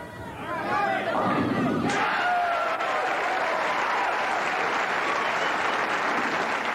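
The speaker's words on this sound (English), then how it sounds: "Audience really divided in the cheering sections here" A crowd at a 1984 U.S. Open bowling tournament erupts in loud cheering and applause, swelling after a brief murmur into a steady, dense roar of clapping and shouting voices that carries on without a break.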